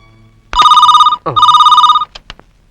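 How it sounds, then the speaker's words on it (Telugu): A telephone rings loudly in two sharp, warbling bursts separated by a brief break, followed by a couple of short clicks in an otherwise quiet room. "వెంటనే మా వాడికి ఫోన్ చేయాలి"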